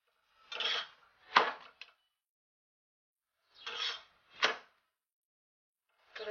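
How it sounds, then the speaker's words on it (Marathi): A layered chapati is pressed with a spatula as it roasts on a hot griddle, heard as a few short scraping, sizzling bursts in pairs separated by silent gaps, close and alone. "पलट्यानं दाबून भाजून घ्यायची."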